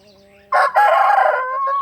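A young seven-month-old fighting cock crows loudly and close by, a single sharp strained call that breaks in after a faint brief bird call.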